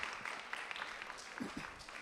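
A small group at a university meeting claps together in brief, fairly soft applause, a dense patter of hands that holds steady throughout.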